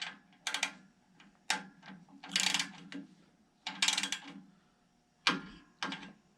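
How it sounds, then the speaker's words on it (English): A torque wrench ratchets in short clicking bursts while tightening a main bearing bolt on a pre-war Rolls-Royce engine, several separate mechanical runs of clicks with quiet gaps between them, close and clear. "So I'm going to torque this one down."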